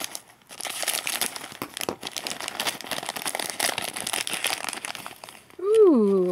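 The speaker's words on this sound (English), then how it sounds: "let's cut it open and see what we got" Plastic packaging on a candy and snack subscription box crinkles and rustles continuously as it is cut open, close and moderately loud, ending with a person's voice rising briefly.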